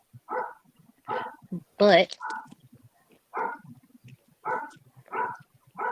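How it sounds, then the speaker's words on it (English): A puppy yaps and barks in short repeated bursts, fairly close, with a voice speaking between the barks. "What a puppy."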